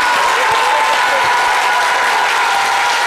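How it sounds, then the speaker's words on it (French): A studio audience on a French television show claps loudly and steadily for a guest, dense continuous applause filling the whole moment with no pause. "On l'applaudit très fort."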